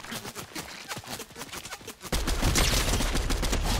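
Rapid gunfire bursts in a video game, first a run of sharp separate shots, then a dense, loud continuous volley of fire filling the second half.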